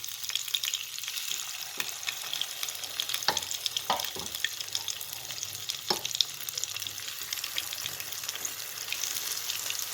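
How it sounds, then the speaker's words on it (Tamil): Kuzhi paniyaram batter sizzling in oil in a pitted paniyaram pan, a steady bright hiss with a few soft taps from spooning, near and continuous with no talk. "அதில் வந்து இப்போ நம்ம வந்து குழி பணியாரத்தை வந்து ஊற்ற போகிறோம்"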